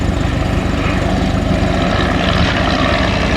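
Vintage propeller airplanes roar overhead during an airshow dogfight, a loud, dense, continuous engine drone that swells slightly as they pass.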